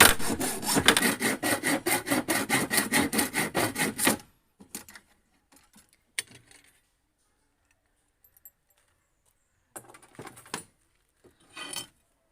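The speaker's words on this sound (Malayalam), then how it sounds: "ഗ്യാപ്പിൽ ഓരോ പേപ്പർ വെച്ച് ഒന്ന് ഉരച്ച് കൊടുക്കുന്നുണ്ട്." Paper is rubbed rapidly back and forth in a gap of a handmade fish hunting gun part, a dense rhythmic scraping for about four seconds, followed by a few faint scattered handling knocks.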